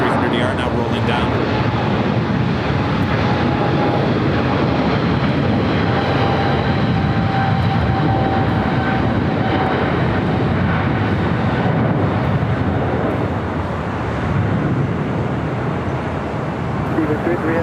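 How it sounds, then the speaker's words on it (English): A Boeing 777-300ER jet rolls down a runway at LAX, a loud, steady broadband roar of engines holding throughout with a rumbling low end. "the 777-300ER now rolling down"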